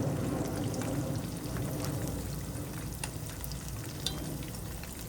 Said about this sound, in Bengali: এই দেখুন আমি কিন্তু একদম মিডিয়াম হিটে আমি এই আইটেমটা ভাজতেছি